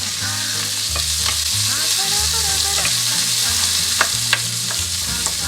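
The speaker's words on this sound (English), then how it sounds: "So now we're just going to saute this" Garlic, onions and peppers sautéing in hot oil, a constant loud sizzle under repeated scraping and stirring strokes, close up and with no talking.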